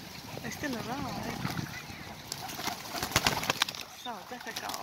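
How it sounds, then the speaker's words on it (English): Pigeons arriving in numbers at a park pond among Egyptian geese and coots, with soft cooing calls and wing flutters mixed into nearby talk and outdoor bustle, including a burst of flapping near the end. "Look, the pigeons, they still arrive."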